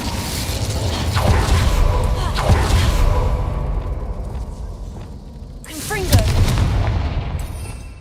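A Confringo explosive spell goes off in the video game Hogwarts Legacy, a loud booming blast with crackling debris over a busy rumbling game backdrop, with another sharp burst later.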